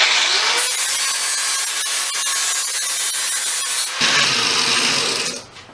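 An angle grinder smooths welds on a steel coat rack or cable hanger, a loud continuous abrasive whine and grinding that runs steadily, shifts in tone near the end, then tails off.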